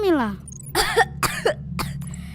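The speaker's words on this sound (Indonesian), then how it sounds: "aku cuma batuk sedikit" Three or four harsh, separate coughs in quick succession, close up, after a brief high-pitched vocal sound.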